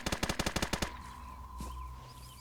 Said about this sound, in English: Some more gunshots in the distance.